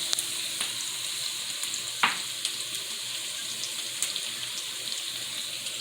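Ingredients for a green chicken chile white bean soup frying in a pan: a steady, close hiss and sizzle with a sharp utensil click partway through and faint ticks scattered across the sound.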